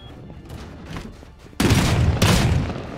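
Two loud, close booming gunshots in the survival game Rust, roughly half a second apart, each with a heavy rumbling tail, after a stretch of quieter background sound.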